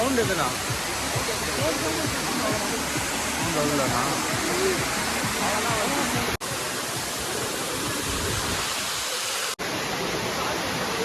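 Kookal waterfall near Kodaikanal pours in a steady, loud, hissing rush of falling water that holds unbroken through the whole stretch, with only two brief cuts.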